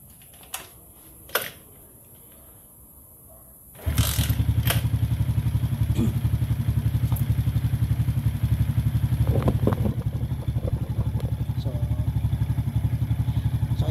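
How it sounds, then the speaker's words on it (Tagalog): After a couple of clicks and clatters, a cold Raider J 115 Fi motorcycle engine starts and settles into a steady, close idle that keeps running loudly to the end. "So ngayon start ko yung motor."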